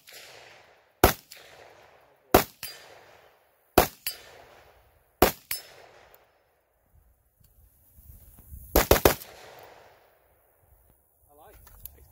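Gunfire at an outdoor shooting range: four single sharp shots evenly spaced about a second and a half apart, then a quick cluster of three or four shots, each ringing out with a short echo; no speech.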